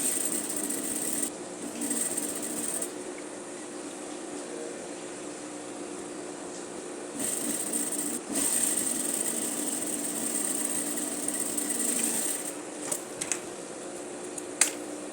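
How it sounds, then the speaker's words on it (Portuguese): A sewing machine stitches bias binding onto a blouse sleeve, its motor whirring steadily in long runs with brief pauses between bursts, close and alone. "Após finalizar toda a costura do viés na peça"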